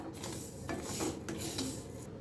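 Pearl millet (bajra) dry-roasting over medium heat in a pan, stirred with a utensil: a continuous gritty scraping and rustling of grains against metal, close and steady with small clinks, no voices.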